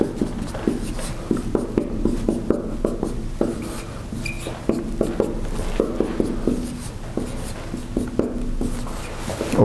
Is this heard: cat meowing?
no